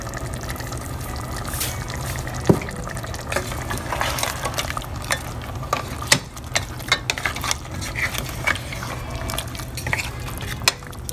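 Mutton chukka being mixed with salt in a pan, with steady scraping and clinking of a spoon against metal plus soft wet stirring, a few sharper knocks standing out, no voices.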